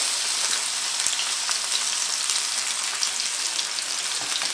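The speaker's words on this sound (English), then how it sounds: "And it does not take long to fry." Sea bass fillet pan-frying, a close, even crackling sizzle with fine popping spatter throughout, no voices.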